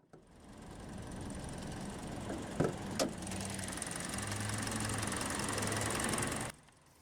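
A 2020 Kia Soul S's 2-liter naturally aspirated inline-4 engine idles low and evenly for several seconds, with a couple of brief clicks partway through before it cuts off near the end.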